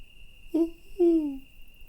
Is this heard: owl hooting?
yes